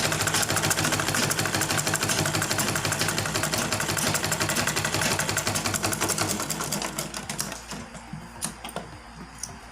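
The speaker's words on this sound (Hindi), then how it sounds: "इसको फिर इसी तरह कई बार सिलाई चला देंगे।" A sewing machine running steady, rapid stitches on a dhoti salwar, loud and continuous with a dense mechanical whirr, then slowing and trailing off into scattered clicks near the end; no talk.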